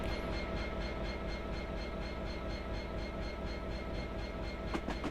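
A train in Train Simulator 2017 crosses Ribblehead Viaduct on the Settle to Carlisle line with a continuous heavy rumble and rhythmic wheel beats. A few sharp metallic clicks come near the end.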